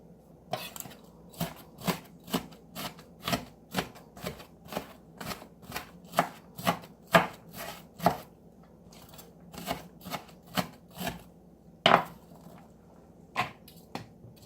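A knife chops vegetables into small pieces on a cutting board for homemade vegetable beef soup, giving a steady series of sharp close knocks about twice a second with brief pauses.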